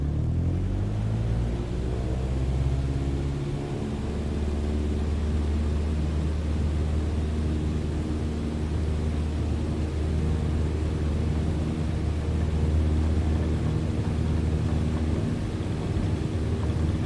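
An airplane takes off in Microsoft Flight Simulator, its steady engine roar and rumble holding loud and continuous with a rising drone, no voices over it.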